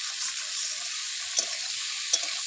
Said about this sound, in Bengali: যতটা চিংড়ি মাছ ততটা ভেন্ডি দিয়ে আমি ভালো করে আর একটু ভেজে নেব